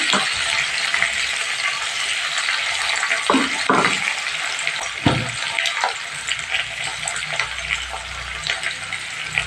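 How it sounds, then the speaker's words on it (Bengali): Potatoes fry lightly in hot oil, a steady bright sizzle running throughout with a few clinks and scrapes of stirring around the middle. "আলুগুলো তেলের মধ্যে হালকা করে ভেজে নিয়ে"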